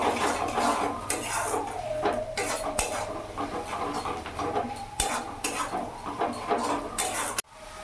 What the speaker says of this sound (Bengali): আর এখানে কাশ্মীরি লঙ্কা গুঁড়ো আমি দিয়ে দিলাম ভালো করে মিশিয়ে নেবো